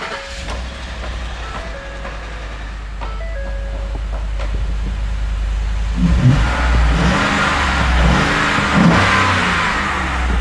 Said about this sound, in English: So I'm gonna start the engine.